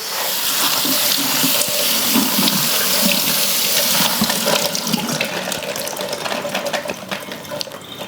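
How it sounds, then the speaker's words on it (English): Yellow and red peppers get rinsed in a colander under a running kitchen tap: a loud, steady rush of water spattering over the vegetables. It continues without a break, with a few clinks as they are moved around. "I'm going to add them to a colander, and we're going to wash those."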